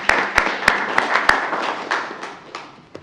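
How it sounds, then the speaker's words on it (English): Audience at a town council meeting gives a brief round of clapping for a third-grade girl who read aloud, with sharp individual claps standing out over a fading patter. "Yes, let me give her another clap."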